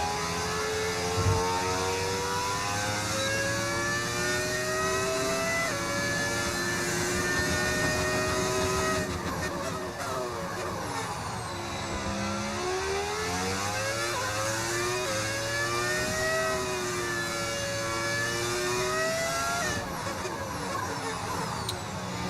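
An F1 racing car engine in the F1 25 video game howls steadily at high revs, pitch climbing through gear changes and dipping briefly before rising again, loud and continuous throughout.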